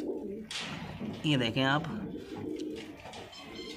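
Lal Gandedaar pigeons from Tonk, India coo in soft, repeated low calls, fairly close, while someone talks over them.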